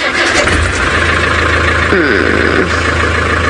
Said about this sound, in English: let's just let the engine run